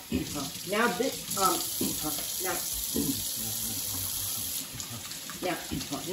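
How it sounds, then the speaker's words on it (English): Hands are washed under a running kitchen tap, a steady close rush and splash of water that lasts throughout, with a voice faintly audible underneath in the first few seconds. "So I'm gonna wash my hands."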